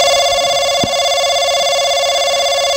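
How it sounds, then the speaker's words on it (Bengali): A telephone ringing with a steady electronic tone sounding loud and continuous throughout, with one short click partway through. "এই ফোন আইলো কার আরে ফোন আইছে কার"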